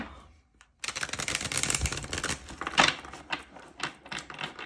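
Tarot cards shuffled by hand during a reading, a dense run of close papery riffling and flicking that fills most of the clip after a short quiet start, with sharper slaps here and there.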